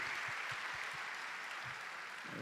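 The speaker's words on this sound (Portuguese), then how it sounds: "Eles merecem um aplauso, não merecem?" Applause from a church congregation for a performance by the youth and teens, a steady broadband wash of many hands clapping at moderate distance, with a few low thumps throughout.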